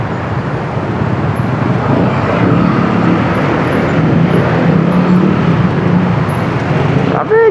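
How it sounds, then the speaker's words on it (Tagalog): Dense road traffic on a busy route toward an expressway in Manila, a constant loud roar of engines and tyres with a faint voice mixed in underneath. "Traffic."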